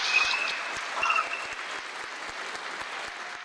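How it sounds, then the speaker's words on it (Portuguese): Audience applause at a debate event: a steady round of clapping from a crowd, dense and continuous, slightly louder at the start and then holding evenly. "isso merece uma salva de palmas"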